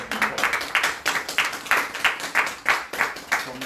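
A conference audience at a London cryptocurrency event claps in a brisk, even rhythm, the loud, close strokes falling at steady intervals for the whole few seconds.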